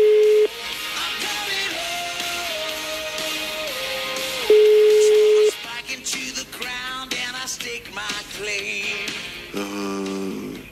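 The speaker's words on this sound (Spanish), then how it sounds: "Carolina, te pido por favor que atiendas el teléfono" A call to a cell phone is placed, with a steady connection tone followed by a series of electronic call tones and shifting beeps, clear and close, with no voices over them.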